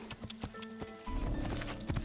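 Horse hooves clip-clopping in the Assassin's Creed video game, a steady run of close, evenly spaced hoofbeats that grows denser and heavier partway through, with a brief whinny-like tone.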